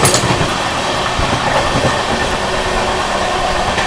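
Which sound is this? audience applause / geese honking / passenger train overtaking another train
passenger train overtaking another train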